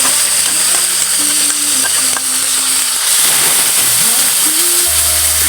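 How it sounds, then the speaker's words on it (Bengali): Ground spice paste hisses and sizzles as it fries in hot oil in a kadai while cooking an egg dish, a loud, continuous close-up sizzle with steady hiss and no talk. "এবার সব বাটাগুলো কড়াইতে দিয়ে দেবো,"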